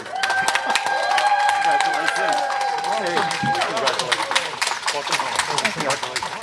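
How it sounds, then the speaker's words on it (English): Dense clapping and cheering from a crowd fill the scene, with a couple of sustained tones early on and voices mixed into the steady applause. "And to that applause emerged Kelly Haston, Anka Salariu, Ross Brockwell,"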